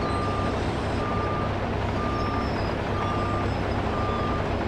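Steady, evenly spaced reversing beeps from a dump truck in Farming Simulator 25, ringing over a constant loud engine rumble and continuing throughout without voices.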